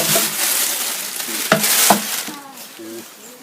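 Food fries in a pan with a loud, close, continuous sizzle, broken by a couple of sharp clatters and scraping stirs, fading toward the end.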